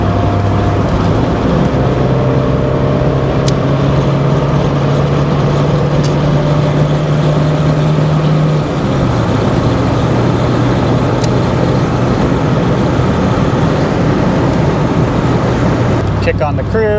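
A 1985 Toyota Celica GT-S cruises at highway speed, its engine drone and road roar loud and constant, with a steady tone shifting partway through as the car rolls on.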